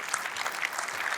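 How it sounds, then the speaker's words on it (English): An audience applauds steadily at a footwear and circular-economy talk, a dense, even wash of clapping hands filling the short moment without a break. "Let's give that a round of applause."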